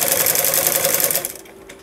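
An electric sewing machine stitches thin piping onto a designer sleeve with a loud, fast, steady buzz that stops abruptly after about a second and a half.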